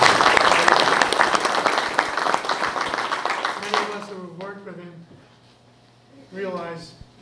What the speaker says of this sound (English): I think we should give him a round of applause now